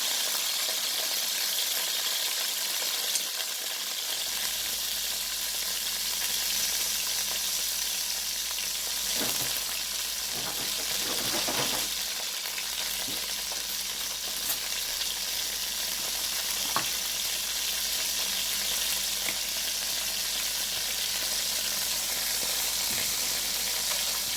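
Italian sausages sizzle steadily in a frying pan, a continuous loud crackle with occasional clinks and stirring sounds, and no talking over it.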